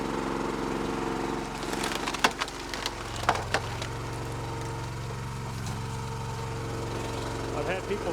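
Wolfe Ridge 28 ProC log splitter with an adjustable wedge working through firewood, an engine humming steadily underneath while wood cracks and splinters in sharp bursts around the middle, no voices.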